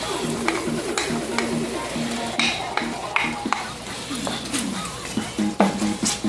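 Shrimp sizzling in a hot pan for a Jamaican curry shrimp stir fry, with steady frying crackle and scattered clinks and scrapes of stirring.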